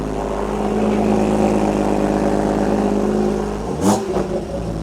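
A car engine holds a steady, loud idle with rich low harmonics, then gives a sharp rev that rises and falls before settling back.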